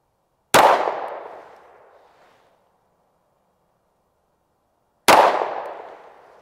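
Two sharp, loud shots ring out several seconds apart while zeroing a Vortex Defender ST red dot, each a sudden crack followed by a long echoing decay into quiet.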